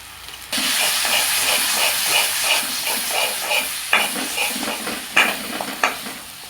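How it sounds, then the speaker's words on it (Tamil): Ginger, garlic and tomato sizzle and hiss loudly in hot oil for Tamil prawn thokku, with rhythmic stirring strokes and a few sharp clanks of the spoon against the pan near the end. "இஞ்சி பூண்டு தக்காளி எல்லாம் பச்சை வடை வரையில் போகிற வரையில் நல்லா வதக்கணும்னா தான் நல்லா டேஸ்ட் இருக்கும்"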